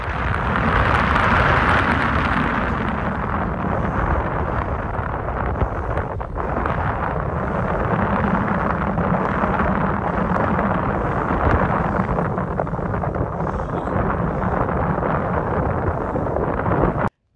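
Strong wind batters the microphone on a mountain hilltop during a trek up Kondarangi Hill, a loud, continuous roaring buffet that stays close and steady for the whole stretch with no voices.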